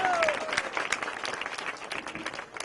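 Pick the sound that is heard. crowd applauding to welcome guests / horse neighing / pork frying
crowd applauding to welcome guests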